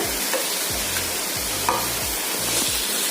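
A spoon stirs a frying onion and grated coconut mixture in a pan, repeated scraping strokes every half second or so over a continuous close sizzle.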